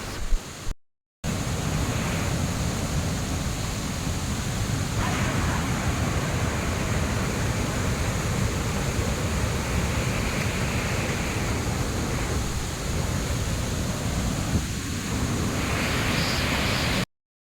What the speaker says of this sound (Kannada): ಅಂತಿಂತೂ ಜಲಪಾತದ ಬುಡವನ್ನು ತಲುಪಿದ್ದೀವಿ